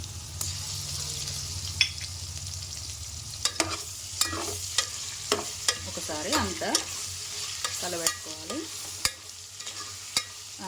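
Ginger garlic paste frying with potatoes in a pan, with a spoon stirring and scraping in repeated clicks and clatters over a steady low sizzle, no voices.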